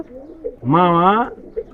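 Giribaz pigeon gives a single loud, close coo lasting about half a second, with faint soft sounds before and after.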